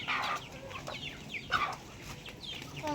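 Young chickens about 45 days old, kept on a rural farm, cluck and peep steadily up close while pecking at feed. The calls overlap in quick, busy bursts with no talk.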